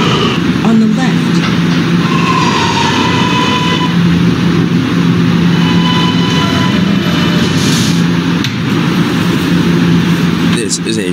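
An R train running on the N line in the PTA subway game, with a continuous loud rumble of wheels and car noise and faint tonal whines, under a voice making announcements.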